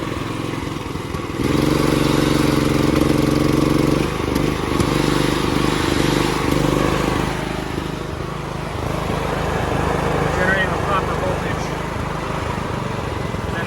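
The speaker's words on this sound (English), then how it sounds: "With the auto idle on, it runs fine now. It's not sputtering out anymore." A Mitsubishi MGE 4000 generator running steadily on auto idle after a repair, a loud close engine drone with a strong steady hum that dips slightly partway through, with a voice speaking over it.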